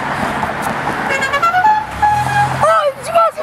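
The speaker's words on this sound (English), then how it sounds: "Honk your horn!" A car horn sounds in a series of honks, blaring over loud, excited voices shouting nearby.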